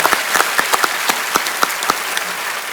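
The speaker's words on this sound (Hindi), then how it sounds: "एक बार जोरदार तालियां हो जाए।" A small studio audience on a comedy show claps for a few seconds, the claps sparse and uneven, close by and fairly loud.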